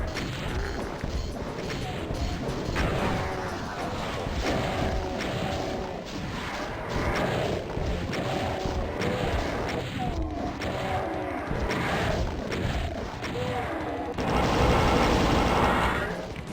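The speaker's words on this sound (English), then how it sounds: "just fire rockets until there's no rockets left to fire" Rockets repeatedly fired in Back to Saturn X, a Doom-engine shooter, a dense, continuous barrage of blasts and explosions over game noise, loud and close with no talk.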